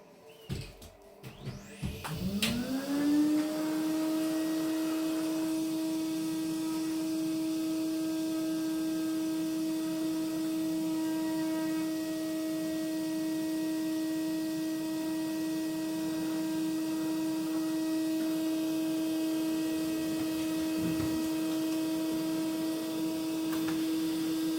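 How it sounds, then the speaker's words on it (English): A Hoover vacuum cleaner switches on and spins up within a couple of seconds, then holds a steady, loud whining drone while cleaning out a Morso multi-fuel twin-door stove, with no talk over it. "I'm going to get the Hoover on now,"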